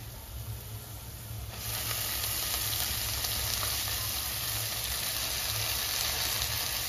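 Fenugreek leaves drop into hot tempering oil for a red chawli bhaji, setting off a sudden loud, steady sizzle that keeps going after a quieter start.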